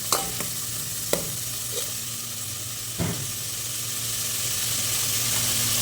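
Curry leaves and onion frying in oil for a vegetable semolina dish, giving a steady close sizzle with a few sharp crackles and clicks early on, no voices.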